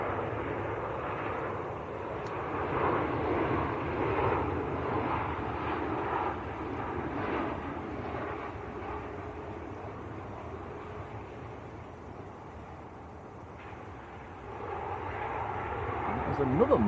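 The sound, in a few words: Ryanair airliner on final approach, Manchester Airport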